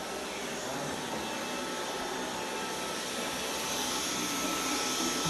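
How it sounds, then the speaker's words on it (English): A vacuum cleaner drones steadily across a home floor, a loud close whining roar with a high tonal hum that holds level and swells slightly toward the end, with no talking over it. "And he's vacuuming my floor."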